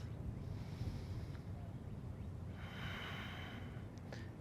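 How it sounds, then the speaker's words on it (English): Steady breathing during a power yoga session, soft and continuous with airy hiss rising mid-clip, close and alone with no talk. "One more breath."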